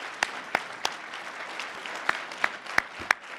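Scattered, sparse clapping from a small audience at a local community TV event: about eight sharp, separate claps spread over a few seconds against a quiet room background.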